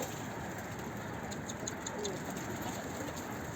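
Soft cooing of pigeons under steady broadband background noise, faint and continuous with no clear breaks.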